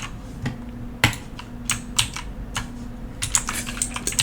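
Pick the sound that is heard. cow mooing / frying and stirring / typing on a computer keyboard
typing on a computer keyboard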